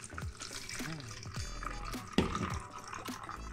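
Blended garlic water being poured through a strainer into a sprayer bottle, with close splashing, dripping and liquid gurgling in uneven bursts and a sharper knock partway through.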